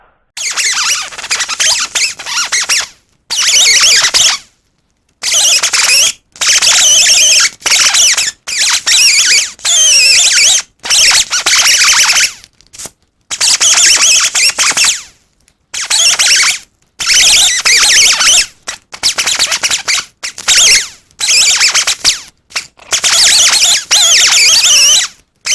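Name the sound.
die grinder with wire wheel cleaning brake clip area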